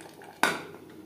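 A single sharp metallic clack as a lid is set onto a cooking pot, followed by a brief ringing decay, loud and close, with no other sound around it.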